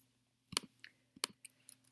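Two sharp plastic clicks from calculator keys, followed by a few fainter taps, close and quiet with no voices.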